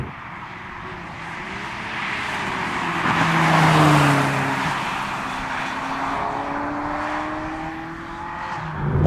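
A high-mileage Ferrari 360 supercar with about 161,500 miles and Pirelli P Zero Asimmetrico tyres drives along a rough British B road, its engine note rising and falling through gear changes, moderately loud with tyre and road noise continuous throughout.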